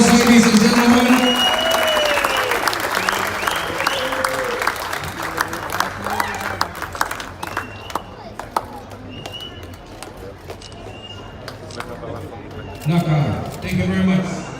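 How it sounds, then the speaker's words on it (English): An audience at a rugby sevens event gives a round of applause, with the clapping strong at first and then dwindling to scattered claps, while voices talk over it. "Big round of applause, ladies and gentlemen."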